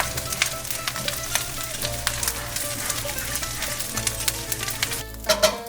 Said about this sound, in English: we're gonna turn on the flame and we're gonna cook our bacon